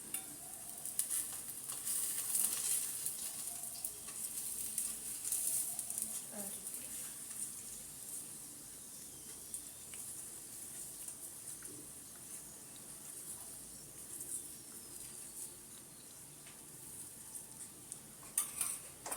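Aloo paratha frying in oil on a hot pan gives a steady, soft sizzle that runs the whole way through, with occasional light clinks of a utensil against the pan.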